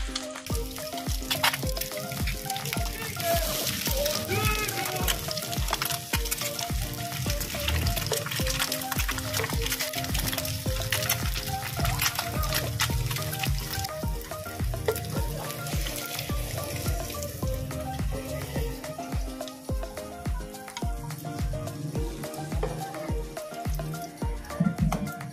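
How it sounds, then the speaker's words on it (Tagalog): An egg frying in a pan, seasoned with a pinch of salt, gives off a steady, continuous sizzle that holds at an even level from start to finish. "Pagpiprito naman po"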